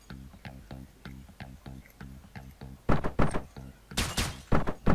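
Gunfire in the top-down action game Hotline Miami: a series of sharp bursts, several in quick succession, loud over a pulsing electronic soundtrack with a steady rhythmic beat.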